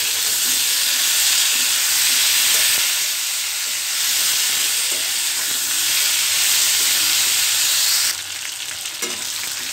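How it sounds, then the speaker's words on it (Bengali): Potatoes and pointed gourd fry together in a pan with a loud, continuous hissing sizzle that drops in level near the end as the food is stirred. "এখন আমি এর ভিতর আলুগুলো দিয়ে দিব, আলুটা দিয়েও মানে আলু আর পটলটা একসাথে খুব সুন্দর করে ভেজে নিব"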